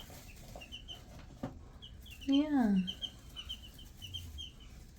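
Baby chicks in a hatchery cheep softly and continuously in high, short peeps, with a brief voice speaking partway through.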